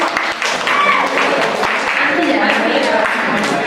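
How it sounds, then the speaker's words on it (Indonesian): Audience applause at an Indonesian circular economy and green jobs outreach session, a steady patter of clapping lasting a few seconds with voices mixed in. "Oke, tepuk tangan dulu."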